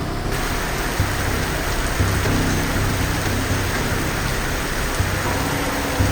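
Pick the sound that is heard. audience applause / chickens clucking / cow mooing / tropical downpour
tropical downpour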